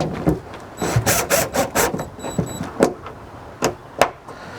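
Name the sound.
screws being put back into a 2016 Subaru Forester door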